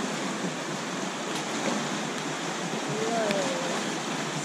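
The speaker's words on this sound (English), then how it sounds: "It's the Whirinaki River." Whirinaki River in New Zealand flowing on a hiking trail, a steady broadband rush of running water filling the whole stretch, close and constant, with a faint brief whistle-like tone near the end.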